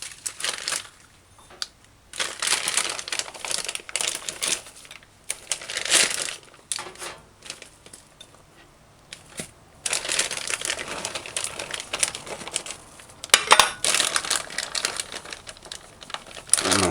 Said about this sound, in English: I must mash out a couple of this garlic. I just use here and press it.